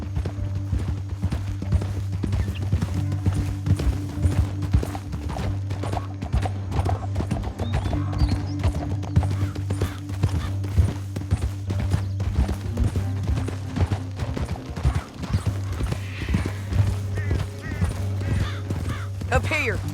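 Horse hooves clip-clop steadily through a Red Dead Redemption 2 ride, mixed with a constant low engine-like drone and music, while voices talk over the galloping.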